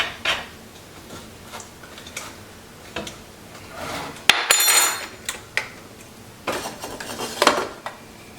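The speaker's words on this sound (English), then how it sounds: "And now we're just going to stir this and let it heat up until our sugar is all melted." Spoon stirring a sugar and apple cider vinegar mixture in a pot, with repeated scraping and clinking strokes against the metal, moderately close and irregular, including a sharper clatter midway.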